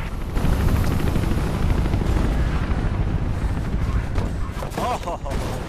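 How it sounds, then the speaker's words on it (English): A helicopter flies in the video game Mirror's Edge, with a loud continuous rotor rumble filling the whole stretch and some sharper bursts near the end. "chopper's got a call from its mom. It's bugging out."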